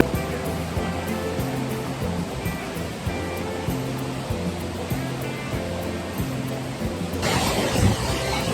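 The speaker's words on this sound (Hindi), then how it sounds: "दूधसागर को बोला जाता है वर्ल्ड का सबसे बिगेस्ट वाटरफॉल" Dudhsagar waterfall, among the largest falls in India, roars as a steady broad rush of cascading water, with a low repeating mechanical hum beneath it and a brighter surge near the end.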